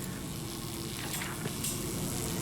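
Boiling, sparkling liquid hisses and sizzles steadily in the horror game Amnesia: A Machine for Pigs, a dense continuous crackle with no voices.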